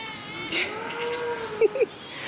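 A cat meows close by outdoors in an area hit by a tornado: one drawn-out, wavering meow followed by two short, sharper cries, heard against a quiet background.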